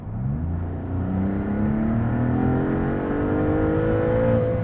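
Maserati MC20 supercar accelerating hard at full throttle in GT mode with automatic shifting, a loud, close, continuous engine roar rising steadily in pitch over several seconds with no clear gear change.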